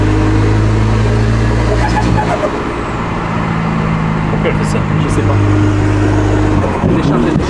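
Heard from inside an Audi A5 3.0 TDI on the road, the diesel drones loud and steady at low revs while the car struggles to accelerate. Road noise sits underneath, and the engine dips and swells briefly. Faint voices may be present.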